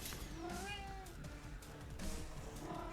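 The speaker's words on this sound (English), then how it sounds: "My cat yelling at me." A house cat meows insistently in a few rising, drawn-out calls, fairly close, over soft background sounds.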